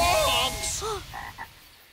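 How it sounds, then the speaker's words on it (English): Cartoon frogs croak in a quick series of short, close, fairly loud calls, a few overlapping at first and then separate croaks tapering off. "Frogs!"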